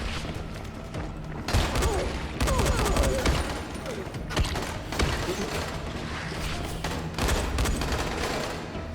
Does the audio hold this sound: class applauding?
no